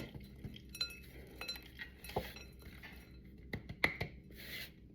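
Chopped pecans are worked by hand into a bowl of dry ingredients, giving scattered light clinks, rattles and soft scrapes at an irregular pace, close up and fairly quiet, with no talking.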